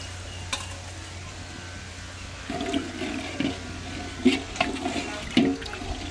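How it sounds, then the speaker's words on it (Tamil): Water splashes and gurgles into a cooking pot for rice pulao over a low background hiss, with a few louder sloshing bursts toward the end. "தண்ணி சேர்த்துக்கலாம்"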